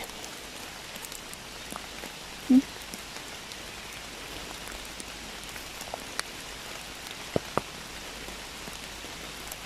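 Steady light rain falls in a German forest, a soft even patter throughout with a few sharper drip taps standing out, one brief louder knock near the start; no voices.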